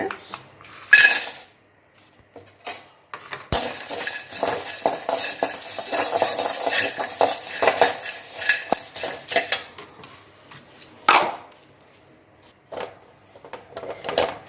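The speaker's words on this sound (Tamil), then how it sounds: "அதே போல் இந்த பூண்டும் லேசாக வறுத்துக்கிறலாங்க" Garlic being lightly roasted in a pan for a rasam spice powder, with repeated scraping and clinking of a utensil against the pan, fairly close and steady with brief pauses.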